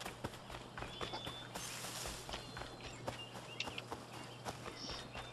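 Horse hooves clop in a steady, light rhythm over a low ambient hum in Assassin's Creed III, moderately close and fairly quiet.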